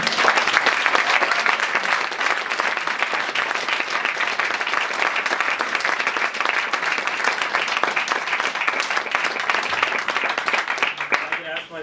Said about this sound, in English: please hold the applause